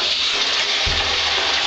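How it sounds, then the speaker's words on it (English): Water gushes from a tap as it rinses degreaser off a screen printing screen, starting with a sudden low splash partway in over an ongoing hiss of running water. "The next thing is you just wash the grease off."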